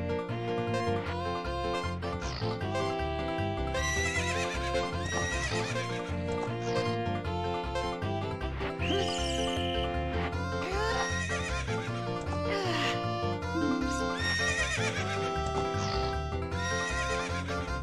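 Horse neighing and whinnying in the video game Legend of Zelda: Ocarina of Time, with clip-clop hooves over game music, steady and fairly loud throughout.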